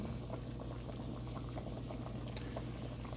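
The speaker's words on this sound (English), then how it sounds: "your soup needs to be boiling before you start doing this" A pot of chicken soup at a rolling boil, with small pieces of thin dough dumplings being dropped in, gives a close, constant bubbling and simmering sound with soft little plops, quiet and steady throughout.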